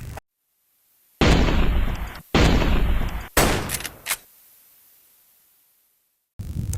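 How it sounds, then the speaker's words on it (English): A Springfield 1911 A1 pistol fires .45 ACP rounds at steel targets outdoors, three loud sharp shots about a second apart, each with a trailing echo, then a metallic ping of steel being struck before a fourth blast at the end. "Those opening shots were taken with the Springfield 1911 A1. The rounds are hitting the steel very hard."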